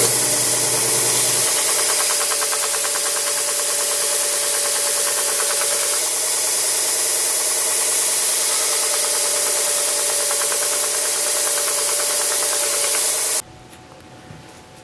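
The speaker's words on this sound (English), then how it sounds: "Okay, with the belt sander now. And let's just take this trashy edges off here and clean it up a bit." A belt sander runs steadily and loud, smoothing the rough edges of a small wooden reindeer, its motor whining continuously with a gritty rubbing tone before cutting off near the end.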